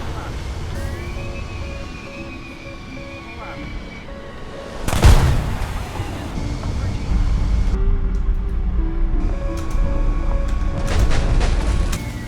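A glide bomb explodes in the War Thunder air battle game, dropped from an F-15E: one loud booming blast near the middle, set against a steady engine drone and game tones that continue afterward.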